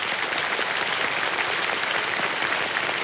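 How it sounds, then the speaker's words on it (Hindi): A studio audience on the quiz show Kaun Banega Crorepati applauds a contestant, an even, continuous roar of many hands clapping close by with no pause. "ताली बज जाए इनके लिए।"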